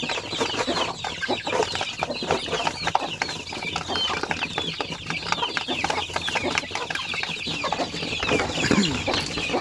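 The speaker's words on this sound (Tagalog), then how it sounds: "Yan mga sisiw nila, mga 2 weeks old." Two-week-old chicks in a pen keep up a constant, dense chorus of high peeping and chirping close by, with a few hen clucks mixed in.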